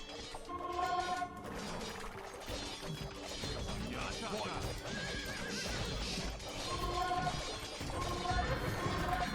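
A warhorse neighs and whinnies with clattering hooves during a hard-difficulty medieval video game battle on the Marchfeld, amid crashes and steady combat din, with voices faintly mixed in.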